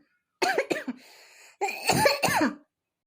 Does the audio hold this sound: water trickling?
no